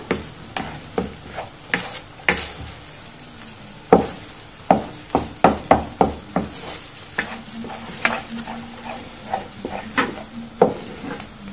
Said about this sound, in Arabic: اهو كده هنفضل نقلب بالشكل ده كده